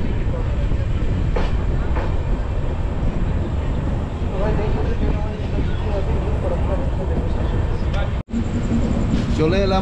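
Train running on rails near Farakka station on the Jalpaiguri–Sealdah Humsafar Express route, a steady loud rumble with rail clatter throughout, briefly cutting out near the end, with voices faintly mixed in.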